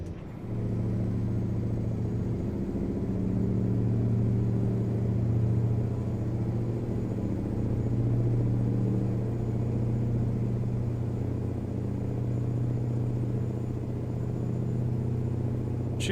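A Mack truck engine in American Truck Simulator labours up a hill under extra load, a steady deep rumble that holds for many seconds with no talking over it.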